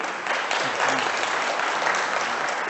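Debate audience applauding steadily in a hall, a dense sustained wash of clapping at close range that holds from start to finish with no voices over it.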